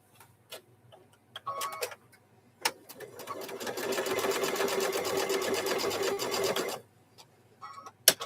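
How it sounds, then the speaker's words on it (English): A sewing machine stitches around the corner of a fabric microwave bowl koozie in one steady, fast run of about four seconds, with brief clicks and handling noises before and after. "Once you get going, they stitch up really quick."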